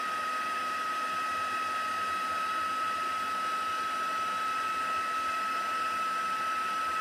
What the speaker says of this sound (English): So turn the heat tool on and literally just heat it through.